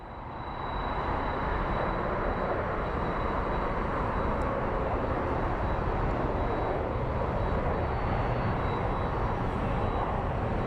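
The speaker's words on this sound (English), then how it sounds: "So this plane is headed to San Diego" A jet airliner bound for San Diego at Phoenix Sky Harbor International Airport, a loud steady engine roar that swells in after the first second and holds without letup.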